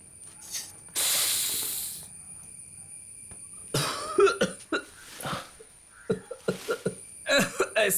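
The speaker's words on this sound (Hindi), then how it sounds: "ठीक वैसे ही पहला कश लगाने से खांसी होती है।" A person coughs after taking the first puff of a cigarette, in a Hindi-dubbed film scene: a burst of harsh, breathy coughing near the start, then scattered short coughs and exhales mixed with speech.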